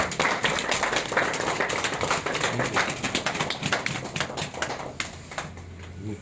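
Applause at an office handover ceremony, a crowd of brisk, uneven claps rattling close by, thinning toward the end, with faint voices underneath.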